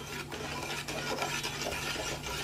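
A batter is mixed continuously, making a steady rasping, rubbing scrape against the bowl that runs without pause over a constant hum.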